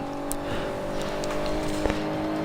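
A Nissan GTR engine in the racing video game Forza 5 hums steadily at moderate volume, with a couple of sharp knocks like light impacts partway through.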